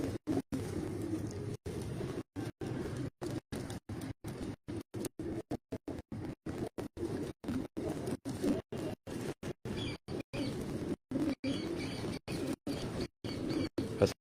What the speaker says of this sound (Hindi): तो दोस्तों, ये जो सिरे कबूतर हैं